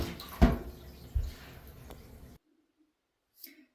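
Running water rinsing freshly dyed fabric, a close splashing tap stream with a few louder splashes lasting a couple of seconds before cutting off to near silence.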